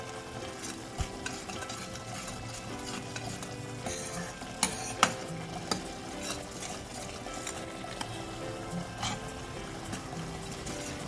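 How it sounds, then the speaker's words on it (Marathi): Garam masala being sautéed into a thick vegetable biryani gravy in a pan, with a steady soft sizzle, a spoon scraping and stirring, and occasional sharper clinks against the metal. No speech. "1 चमचा गरम मसाला. छान असं मस्त परतून घ्यायचंय."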